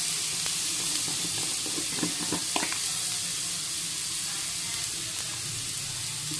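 Ridge gourd peel paste frying in oil with fried garlic, a constant close sizzle with a few stirring scrapes partway through.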